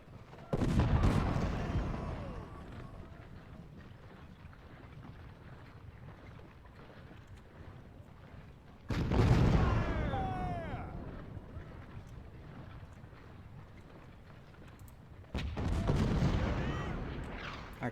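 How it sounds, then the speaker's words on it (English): Artillery fire at Gettysburg in Ultimate General: Civil War, three separate heavy booms with long rumbling tails spaced several seconds apart over low wind-like ambience. "Artillery."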